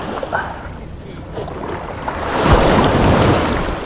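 A small outrigger boat pitches in rough sea while trying to land, steady wind and wave wash roaring around it and swelling louder in the second half, with faint voices under the noise.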